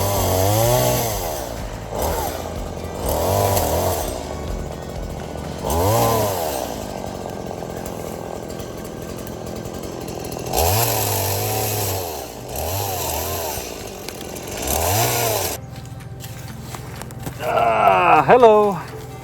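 Chainsaw being revved to full throttle in repeated bursts, each roaring up and falling away, with someone talking in between and a short rattle near the end.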